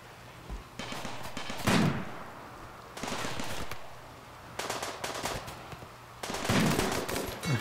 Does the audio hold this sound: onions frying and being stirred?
no